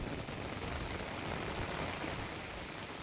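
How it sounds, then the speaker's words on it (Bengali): Heavy rain pours down steadily, a dense, even hiss of drops hitting surfaces that stays loud and unbroken throughout, with no voices. "খুব ভয়ঙ্কর জোর বৃষ্টি পড়ছে"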